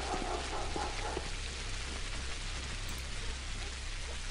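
Steady rain falls in the video game Pathologic HD, a dense, even hiss of drops on surfaces that keeps a constant level throughout with no voices.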